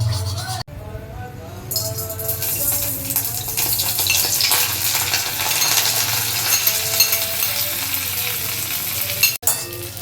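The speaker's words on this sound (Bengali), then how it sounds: "এই ঘিতে সিমুইটা ভাজা হবে।" Vermicelli frying in ghee in a kadai for creamy semai payesh, a continuous close sizzle with stirring scrapes and light clinks after a brief quiet start.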